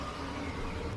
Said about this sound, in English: it wasn't soaring, it was a random car